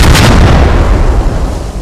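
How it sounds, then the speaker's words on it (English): Heavy explosions in the Squad video game as a frag grenade blows up enemy material, a loud, dense rumbling boom with chained blasts running together and slowly fading. "So the initial frag grenade detonates one, and then that one detonates really the rest of them"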